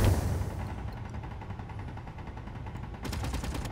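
Enemy ship gunfire in the space game Space Engineers: a dense, continuous rattle of rapid shots that stays loud throughout, briefly swelling again near the end, with no talking.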